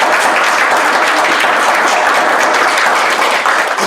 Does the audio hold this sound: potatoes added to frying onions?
no